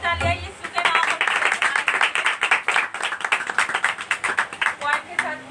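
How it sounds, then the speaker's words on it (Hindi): Loud, dense clapping from a congregation at a prayer meeting, rapid and sustained for several seconds before breaking into a more rhythmic, pulsing clap toward the end. "जोरदार तालियां यीशु के नाम में।"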